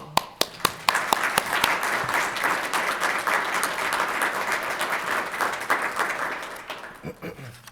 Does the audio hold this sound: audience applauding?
yes